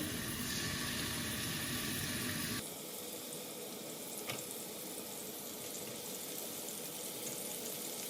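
Fish frying in a small amount of oil in a pan, a broad steady sizzle throughout, louder and denser in the first seconds and then settling to a softer continuous hiss with a brief crackle midway.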